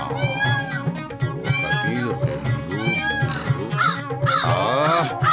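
A flock of cartoon crows cawing noisily, harsh overlapping calls repeating close and loud over a steady background tone.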